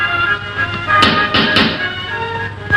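Three quick knocks on a door in a 1950s color film noir drama, sharp and close, spaced in an uneven rhythm over a steady background hum of the film soundtrack.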